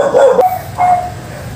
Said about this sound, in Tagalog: So, kumahol ng malakas yung aso namin.